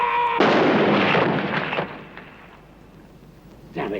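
A rifle volley from a firing squad in a war drama bursts out as one loud, dense blast that slowly decays over about a second and a half, followed by quieter noise and a brief sound near the end.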